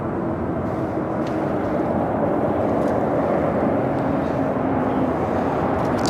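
A jet airliner taxis at LAX airport with a steady, fairly loud engine rumble and whine that holds constant throughout, with no talk.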